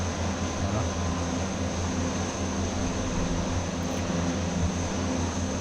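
An aircraft in Microsoft Flight Simulator X making a pass overhead instead of landing, its engine drone a steady, loud, unbroken roar throughout, with no talk.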